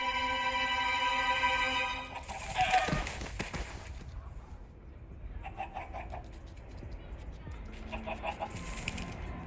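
A Minecraft chicken clucks in short, close bursts with a flurry of wing flaps, following a sustained tonal sound at the start, with quieter game noise in between.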